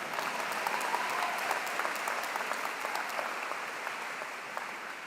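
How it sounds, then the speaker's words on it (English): A large commencement-ceremony crowd applauds steadily, a thick, even patter of many hands clapping at moderate loudness that continues without pause and with no voices. "Applause."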